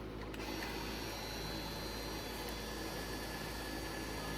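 Ryobi cordless caulk gun motor running at low speed, giving a steady, quiet mechanical whir with dense buzzing texture that holds constant throughout, close by with no talking.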